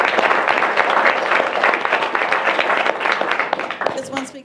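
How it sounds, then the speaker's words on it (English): Attendees at a community forum give a round of applause for charitable organizations, steady crowd clapping that tapers off as a voice begins speaking at the end. "I'd like to give them a round of applause."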